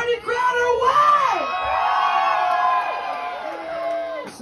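A crowd at a live country-rock concert, a tribute night in Nashville, yells and whoops loudly in long rising and falling calls, a dense wall of voices that swells and holds.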